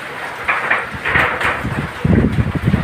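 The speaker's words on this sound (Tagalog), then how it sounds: "Sobrang lakas ang hangin eh." Strong typhoon wind in Norzagaray, Bulacan, roaring and gusting close to the microphone, with rumbling buffeting that grows heavier toward the end.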